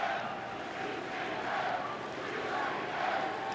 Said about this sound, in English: UCF crowd has been with it. They're taking over the stadium.